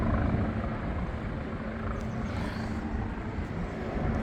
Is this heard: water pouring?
no